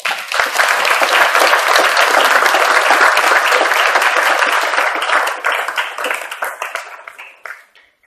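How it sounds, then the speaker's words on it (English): Loud, dense applause from a demo-day audience welcoming the master of ceremonies, sustained for several seconds before tapering off into a few last scattered claps. "let's give a round of applause for Norm"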